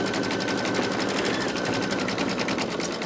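An embroidery machine stitches out a design in a steady, fast mechanical rattle, a continuous even clatter of the needle running without pause, close and alone.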